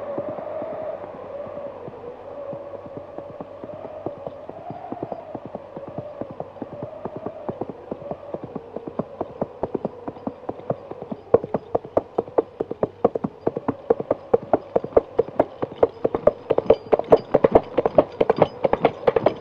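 Coconut halves clapped together to imitate horse hooves, the Monty Python gag: a steady train of sharp, hollow clip-clop knocks that grow denser and louder as it goes on, over a faint tonal background hum.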